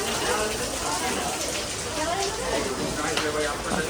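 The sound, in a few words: heavy rain falling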